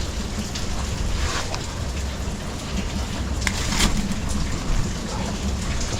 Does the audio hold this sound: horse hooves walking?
no